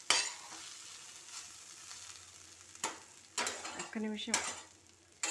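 Food steaming and sizzling in a pan on a Telugu home stove, heard as a steady hiss with bursts of stirring clatter against the pan. A single word is spoken softly near the end.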